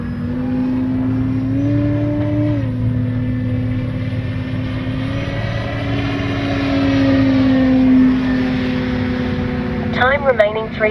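E-flite Carbon Z T-28 radio-controlled warbird plane flying overhead on a calm day, a steady loud propeller and motor drone with slow pitch shifts as it passes, continuous throughout.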